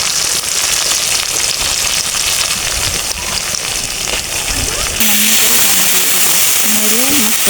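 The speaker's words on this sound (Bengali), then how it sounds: "আজকে আমি গরুর মাংস রান্না করার জন্য পেঁয়াজ খালি কড়াইয়ে পেঁয়াজ দিয়ে ভাজি করে নিচ্ছি" Sliced onions fry in a wok for beef curry, giving off a loud, constant sizzling hiss close up, with a voice faintly heard in the later part.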